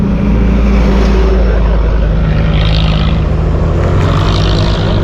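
Boat motor engine running loud and close, a continuous droning hum with steady low rumble and wind-like rushing noise throughout, with no pauses.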